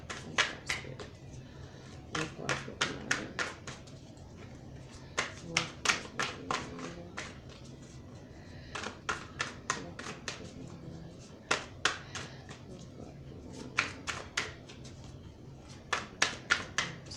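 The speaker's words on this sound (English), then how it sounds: "I'm going to cut the deck" A deck of cards is cut and handled during a spiritual tarot-style reading, giving clusters of crisp, close taps and slaps in irregular bursts over a quiet background.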